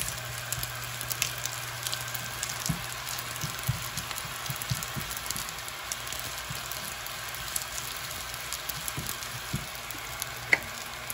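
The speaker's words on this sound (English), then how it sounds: "Gonna do one last stir of my rice." Curry fried rice frying in a pan while being stirred a final time, giving a steady close sizzle with scattered scraping clicks and one brief sharp tick near the end.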